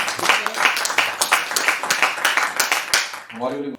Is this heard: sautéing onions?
no